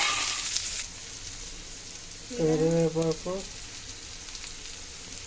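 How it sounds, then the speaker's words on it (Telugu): Onion and green chilli frying in oil for a prawn fry, a soft steady sizzle throughout, with a brief louder burst at the start and a short tonal sound near the middle over the frying. "నూనె వేసుకున్న అయితే ఉల్లిపాయ పచ్చిమిరపాయ వేసుకున్నాం"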